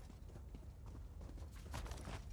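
Summoned horse hooves clopping in the Elder Scrolls Online video game, a quick run of clip-clop steps over steady game ambience, moderately loud and building toward the end.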